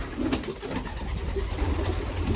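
Young pigeons in a dovecote give soft, low, throaty coos, close and continuous against a constant background hiss, with no voices.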